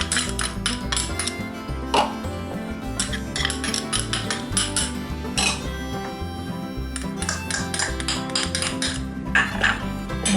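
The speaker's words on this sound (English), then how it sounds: "I'm just going to give them a mix to get them incorporated." Egg and vegetables being mixed in a bowl for macaroni salad, with loud, close clinks and scrapes of a utensil against the bowl in an irregular rhythm throughout.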